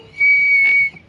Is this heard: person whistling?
yes